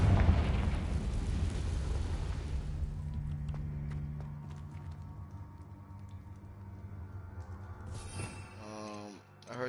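The Confringo fire spell explodes in Hogwarts Legacy with a loud, near burst that rumbles and crackles, then fades into a lingering tonal hum. Short chiming effects come near the end.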